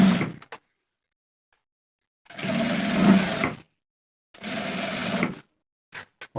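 An electric sewing machine stitching belt loops onto trousers runs in two separate bursts of about a second each, a whirring mechanical hum broken by silence and a few short clicks.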